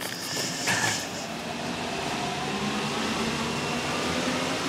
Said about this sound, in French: On dirait dire bonjour au métro qui passe.